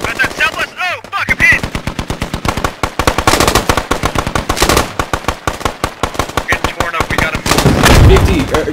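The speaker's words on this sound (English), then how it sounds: "Taking fire." Video game gunfire in Squad Ops: rapid bursts of automatic fire crackle loud and close almost nonstop, with single shots mixed in and a heavier blast near the end.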